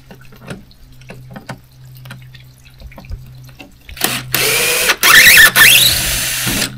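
Power drill whirring in short loud bursts from about four seconds in, backing screws out of a homemade DIY pond filter, after a quieter stretch of small clicks and handling noise.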